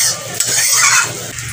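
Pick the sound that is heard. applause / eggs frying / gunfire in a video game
eggs frying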